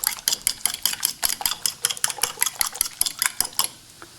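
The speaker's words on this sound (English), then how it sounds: "So I'm getting these nice and mixed up." Eggs are whisked for a Western omelet in a bowl, a fork or whisk clicking against the sides in a quick, even rhythm of sharp taps, close and clear, stopping just before the end.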